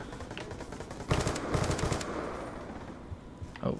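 Bursts of automatic gunfire from a Call of Duty multiplayer match rattle out in two close rapid volleys, then quieter shots and distant game effects trail off.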